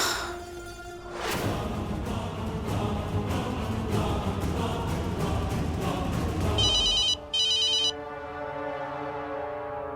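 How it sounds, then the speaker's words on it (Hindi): A telephone rings repeatedly during an outgoing call, the ringback tone pulsing steadily for several seconds over a background music bed, followed by brief higher electronic beeps near the end. "अरे आप किसको फोन लगा रहे हैं?"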